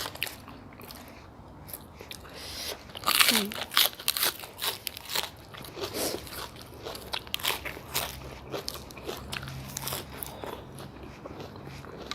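Crisp vegetables crunch loudly between the teeth during a meal of pork noodle soup with fried garlic and crispy pork rinds, with irregular bites and chewing close up, and a voice talking in between.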